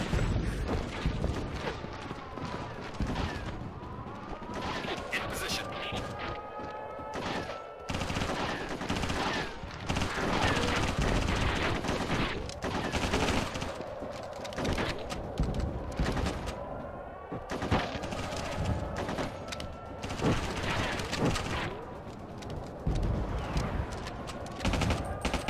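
Sustained gunfire in the Ghost Recon video game as an enemy is shot, with dense automatic bursts and sharp reports rolling continuously and loudly through a busy, layered combat mix.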